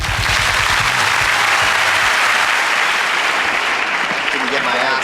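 Loud, dense audience applause after a stand-up comedy set, a steady wash of clapping from start to finish with a brief voice underneath at the opening.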